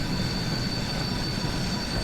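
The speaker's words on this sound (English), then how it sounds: "Close the regulator and gently apply the combination brake to bring the train to a stop at our destination." Steam train braking to a stop in the video game Train Sim World 4, heard as a continuous loud rumble of rolling wheels with a steady high brake squeal on top, no voices.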